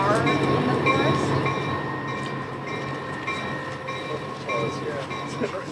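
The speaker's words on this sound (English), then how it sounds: "Yeah, the train's coming, sorry." A slow-moving train passes near a forest during a search, giving a steady loud rumble with rail tones and faint horn-like harmonics, while people talk over it.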